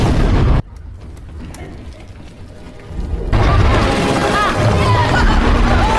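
A film blast rips through the drill path deep inside a mine, a loud booming burst that cuts off into a rumbling lull, then a heavy roaring surge of debris and noise, with a voice speaking over it.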